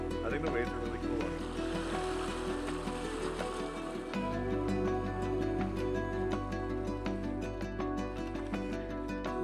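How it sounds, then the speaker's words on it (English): Ocean waves wash steadily near an island shore, a continuous broad rushing surf with a low rumble, sounding alongside a shift in the background noise partway through. "I think the waves are really cool."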